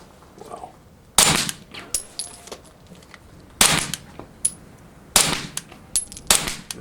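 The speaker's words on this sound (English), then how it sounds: "Tatanka short, 9mm pistol." Suppressed Tatanka short 9mm pistol fired four times at irregular intervals, each shot a sharp muffled crack with a brief metallic clack, and small clicks and handling noises between shots.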